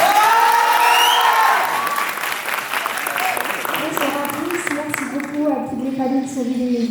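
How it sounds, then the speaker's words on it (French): Audience applause at an Indian dance show, a dense clapping wash that starts loud and eases slightly while a voice talks over it toward the end. "Applaudissements"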